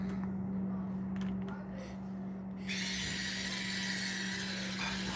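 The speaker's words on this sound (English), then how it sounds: "I'm gonna use my little drill thing" After a few faint clicks and handling noises, a small power drill whirs steadily and close by for a couple of seconds on a Losi LST RC truck transmission, with a hum underneath.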